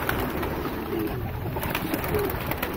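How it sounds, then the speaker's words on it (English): Racing homing pigeons coo softly as they are let out, low burbling calls over steady outdoor background noise, with no one speaking. "letting out his racing homers"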